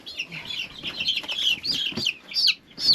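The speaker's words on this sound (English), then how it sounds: "We've got 25 meat birds." Young meat chicks on a small farm give soft, high peeping and clucking calls, a continuous cluster of nearby chirps at moderate volume with little else around.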